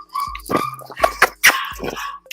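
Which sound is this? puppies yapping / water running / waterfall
puppies yapping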